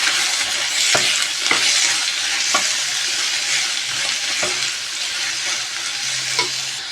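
Finely chopped onions fry in oil for a dhaba-style egg masala curry, giving a loud continuous hiss broken by regular clicks and scrapes of a spoon stirring the pan.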